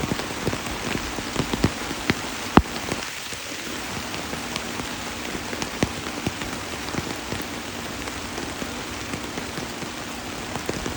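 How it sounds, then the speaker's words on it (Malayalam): Light rain falling in a forest where wild elephants bathe in the mist, a steady close patter of drops on leaves with occasional sharper drips and no voices. "ചെറിയൊരു മഴയത്ത്"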